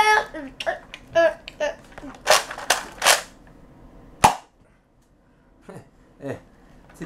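Nerf Rival Artemis blaster shooting foam balls: sharp, close pops, several in a cluster and then a lone shot, with people talking nearby in between.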